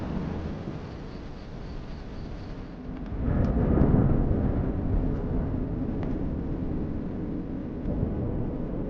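A deep, rolling rumble of thunder swells after a quieter stretch and lingers, low and broad, fading slowly without any voices.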